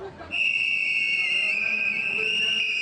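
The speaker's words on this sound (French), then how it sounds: "L'opposition sort les sifflets pour bloquer les débats sur la loi électorale." Shrill, continuous whistles blown by opposition members inside the parliament at the Palais du Peuple in Kinshasa hold a steady piercing tone for nearly three seconds over a noisy crowded hall.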